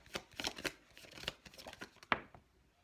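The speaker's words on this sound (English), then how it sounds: "First card out is the Son of Knives." Tarot cards are shuffled by hand in a series of soft, quick riffles and slaps, with one sharper snap near the end, close to the microphone and fairly quiet.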